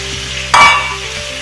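Lamb pieces browning and sealing in a hot pan for a lamb and eggplant casserole, a sudden sizzle burst with a scrape of stirring that swells briefly, then settles back to a steady, moderately loud frying hiss.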